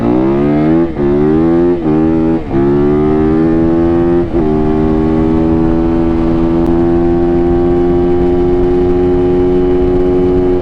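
A Yamaha YZ450F motorcycle engine on a top speed run, loud and close, revving up through several quick gear shifts before settling into a sustained high-pitched wail.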